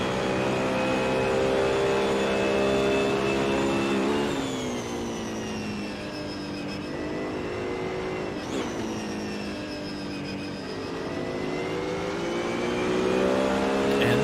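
Race car on a racing circuit, a sustained engine roar with rising and falling pitch through gear changes and corners, heard fairly close and continuous throughout.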